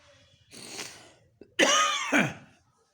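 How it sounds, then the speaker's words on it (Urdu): A man coughs several times at close range: a softer rough cough first, then two harsh, loud bursts in quick succession near the end, with no speech. "معذرت چاہتا ہوں، کھانسی ہے۔"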